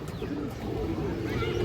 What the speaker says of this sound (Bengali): খুবই সুন্দর একটা খরা গলা নর কবুতর দর্শক।